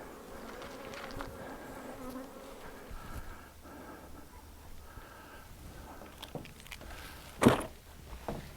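Honey bees buzz steadily around a beehive in a close, continuous drone, with a brief louder thump near the end.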